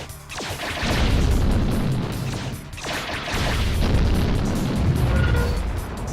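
Shockwave torpedoes detonate in a space-combat video game, two long waves of deep, roaring booms that swell and rumble back to back, loud and dense with crackling debris.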